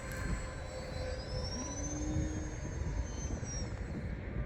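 An E-flite Valiant RC airplane running an electric motor on a 4S battery flies at about half throttle, giving a steady, continuous motor whine with faint pitch shifts as it passes at a distance, with no voices.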